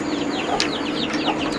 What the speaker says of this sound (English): Baby chickens are growing up.